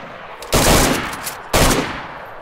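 Two loud, close bursts of rapid automatic gunfire from a video game, each a sustained rattle lasting about a second with a short gap between.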